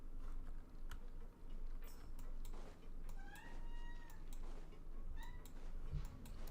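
Cat meows from a character in Genshin Impact, a few short rising and falling cries in the middle of a steady bed of game music and ambience, with faint ticking accents.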